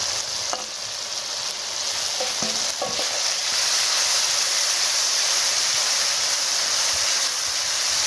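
Spice paste with ginger and turmeric frying in a pan for village-style chicken curry, a loud close bright hissing sizzle that swells and stays steady, with a few light utensil taps early on.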